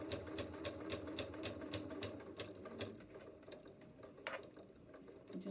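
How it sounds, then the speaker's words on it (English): A home sewing machine stitching a quilt-as-you-go sashing seam with a faint buzzy hum, rapid even needle clatter running steadily, recorded close but quiet with no talk. "my sewing machine's got a very funny buzzy noise at the moment"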